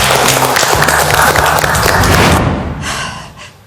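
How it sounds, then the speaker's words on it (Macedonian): A studio audience applauds on the set of a cooking reality show. Dense clapping fills the first two and a half seconds, then thins out and fades to a few scattered claps. "Голем аплауз за Златко Таневски."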